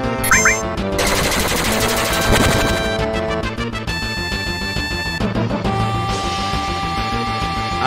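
Rapid automatic gunfire from an assault gun in Final Fantasy VII, sustained bursts layered over loud game music and effects, no talking.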